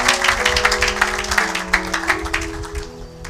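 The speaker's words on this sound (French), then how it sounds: "Acclamez pour la gloire de notre Dieu et de notre Seigneur" A church congregation claps and applauds, dense rapid clapping close by, steady for a few seconds with some crowd murmur beneath.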